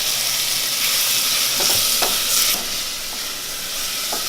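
Vegan mofongo ingredients sizzle steadily in a hot pan for Puerto Rican mofongo, with a few sharp scrapes and taps of a utensil stirring through the frying.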